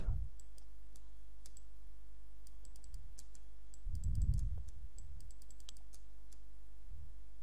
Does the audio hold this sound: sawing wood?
no